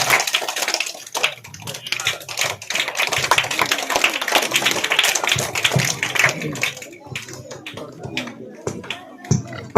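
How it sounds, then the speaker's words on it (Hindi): Dense, steady clapping from a crowd at a village panchayat sports competition fills most of the stretch, with cheers mixed in, then thins into scattered claps near the end. "जोरदार तालियां।"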